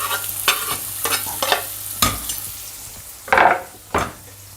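Chopped onion stirred in a hot frying pan with spices for shakshuka, a spoon scraping and clinking against the pan in irregular strokes over a soft, steady sizzle.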